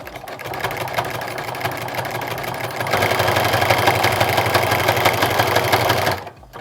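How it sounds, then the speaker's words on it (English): A sewing machine runs steadily while stitching a jelly roll rug, a continuous close mechanical whir with fast rhythmic needle chatter that grows louder partway through, then stops abruptly near the end. "Now I really am just letting my machine move this through"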